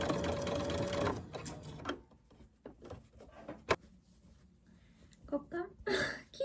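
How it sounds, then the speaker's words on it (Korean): A sewing machine stitches padded dog harness fabric in short bursts separated by pauses, with clicks and handling noise between runs and a little quiet talk. "1cm 간격으로 재봉해줄게요."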